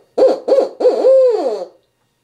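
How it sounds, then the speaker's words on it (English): A handmade owl hooter, used as a turkey-hunting locator call, gives three close, loud hoots: two short ones, then a longer drawn-out call that wavers and fades. "I have an owl hooter I got at the National Wild Turkey Federation."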